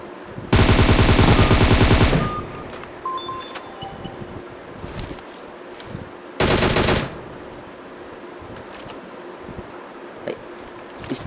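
Automatic gunfire in a mobile battle royale game: a long rapid burst of about one and a half seconds, then a shorter burst, with scattered faint game effects between them. No voices are heard.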